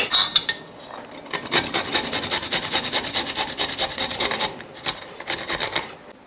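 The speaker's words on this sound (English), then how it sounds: "So right now I am going to grate these 3 pieces of garlic." Garlic cloves grated in close, fast rasping strokes, a dense run of scratchy rhythmic scrapes with a short pause before a final few strokes.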